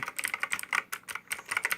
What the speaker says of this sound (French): Donc voilà le bruit du clavier.